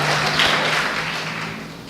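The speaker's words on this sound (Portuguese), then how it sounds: "Aplauda o nome do Senhor," Church congregation applauding, a dense wash of many hands clapping at once, steady and loud, tapering slightly toward the end.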